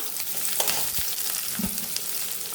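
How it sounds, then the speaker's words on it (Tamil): Chopped onion and green chili fry in hot oil with popped mustard seeds for sambar. A dense, continuous sizzle runs throughout, broken by a few sharp stirring clicks and spatters. "இப்போ கடுகு பொறிஞ்சிருச்சு வெங்காயம் பச்சை மிளகாய் எல்லாம் சேர்த்துக்கலாம்"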